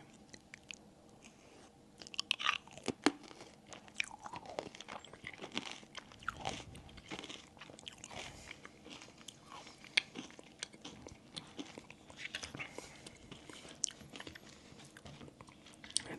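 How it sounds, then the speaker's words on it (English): Close-up ASMR eating of creme brulee ice cream: soft, irregular crunching, biting and chewing sounds scattered throughout, quiet and intimate with faint mouth noises. "Some ASMR creme brulee ice cream."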